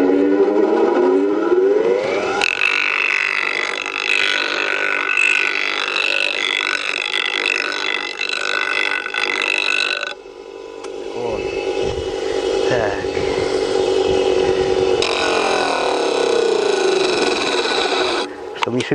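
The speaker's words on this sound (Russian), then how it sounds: "На наждачке поправили чуть-чуть." A bench grinder whines steadily as it shapes a wooden hammer handle, the loud abrasive tone dipping and changing around the middle as the wood is pressed and shifted against the wheel, running almost continuously.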